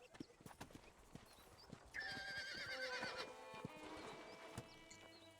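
A horse in the Red Dead Redemption Old West game clip-clops and gives a clear whinny midway, its hooves tapping in a steady rhythm, with speech heard faintly in the background.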